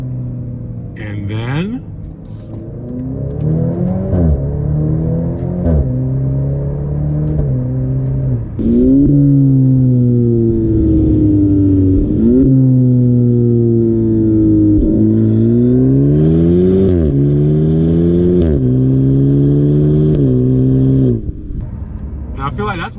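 A 2024 Maserati Grecale GT's engine revs hard on downshifts and acceleration, rising and dropping through repeated loud gear changes close up, with a voice briefly heard at the start.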